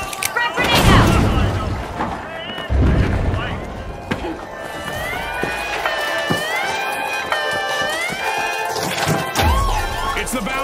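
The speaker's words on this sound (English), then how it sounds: "Frag grenade out!" A frag grenade bursts in The Finals with a heavy crash near the start, followed by further impacts, game announcer-style voices and a busy arena backdrop with crowd noise.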